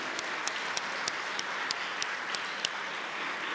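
A crowd applauds engaged parents at a recognition gala in Quebec, a soft, steady wash of clapping with a few sharper individual claps standing out, sounding somewhat distant throughout.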